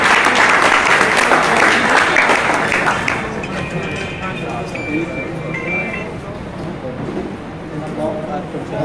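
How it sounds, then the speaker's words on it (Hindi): A crowd at a pigeon racing tournament prize ceremony claps loudly for the winner, strong applause for about three seconds that fades into lighter scattered clapping under a speaking voice. "तीस घंटे एक कावर भी जोरदार तालियों से स्वागत करते हैं"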